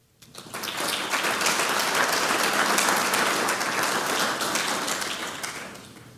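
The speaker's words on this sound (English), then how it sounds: "let's give a round of applause to our international partners on stage" Sustained audience applause at a U.S. Cyber Command legal conference for international panel partners on stage, a loud, dense roar of many hands clapping that swells quickly, holds steady, then begins to taper.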